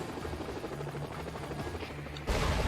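Helicopter rotor chop and engine drone in a shoot-'em-up video game, a steady whirring hum that ends in a sudden louder burst as the craft is destroyed.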